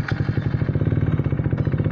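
A motorcycle engine idles close by with a fast, even putter and rhythmic thumping, loud and steady, with a brief clatter near the end.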